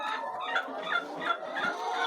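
Laying hens cluck steadily in a deep litter poultry house, a dense, continuous chorus of many birds close by.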